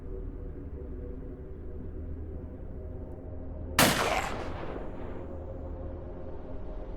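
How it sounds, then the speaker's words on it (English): A single loud shotgun blast in Cataclysm: Dark Days Ahead, a sharp crack with a decaying tail, cutting through a steady low background hum with no talking around it. "Our CZ runs out, so let's switch to the shotgun here."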